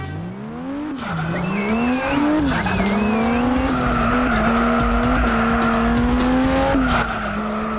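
Race cars in a Japanese import racing video game, engines droning and rising in pitch as they accelerate, with loud tire squeals and skidding over a continuous roar.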